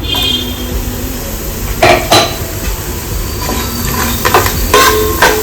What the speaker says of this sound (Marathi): आणि आता हे थोडंसं तळून घेऊया.